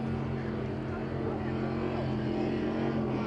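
Offshore powerboats racing at speed in the UIM Sicily Ocean Grand Prix give a loud, steady engine roar with a constant droning tone. A commentator talks over it.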